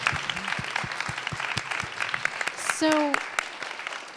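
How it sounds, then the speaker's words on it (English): An audience applauds with steady clapping that swells briefly and then fades, with a short spoken word at the start. "give a big round of applause to all the animators"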